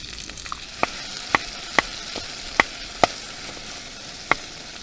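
Canned stewed meat (tushonka) fries in a pan while camping on a cold-water carp fishing trip, giving a steady sizzle broken by sharp pops and crackles at irregular intervals.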